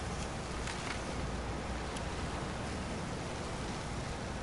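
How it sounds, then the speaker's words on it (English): Steady rain in the video game Metal Gear Solid V: Ground Zeroes hisses evenly and softly, a constant wash of noise with faint scattered drop ticks and no other sounds. "just let the rain get all over that"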